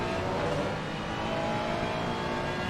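A Ferrari GT3 race car in Assetto Corsa Competizione at Misano holds a loud, steady engine roar down a straight with no break or pause.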